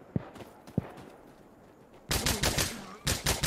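Gunfire in Insurgency: Sandstorm is fired through a wall: two isolated sharp shots come first, then loud rapid bursts of automatic fire close by, with no talking.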